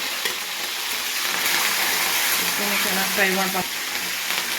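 Mustard seeds, cumin, curry leaves and green chillies frying in hot oil, a steady close sizzle with light crackling throughout, and a voice speaking over it briefly.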